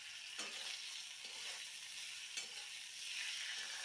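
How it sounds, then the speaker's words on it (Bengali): Chopped tomatoes frying and being stirred in a pan for an old-style Bengali home-cooked curry, a faint, even sizzle with a few soft scraping strokes of the spoon. "এবার টমেটোটা নরম না হওয়া পর্যন্ত আমি ভালো করে নাড়াচাড়া করে কষিয়ে নেব"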